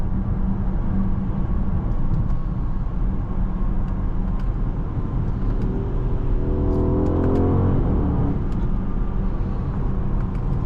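A 2021 Mercedes-AMG GLE 63 S, a large two-row SUV, accelerates hard from inside the cabin, its engine roaring loudly and steadily with a rising pull midway and no talking.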